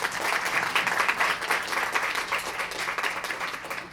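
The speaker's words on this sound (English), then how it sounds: "So I'd like a quick round of applause for all the amazing students here tonight." A student reception audience applauds with dense, continuous clapping that stays fairly strong for the whole stretch, with a slight swell and ease-off.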